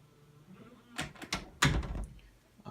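A door eased shut by a door closer settles with a soft thump and quiet latch click, a few muffled knocks and rattles close by in an otherwise quiet room.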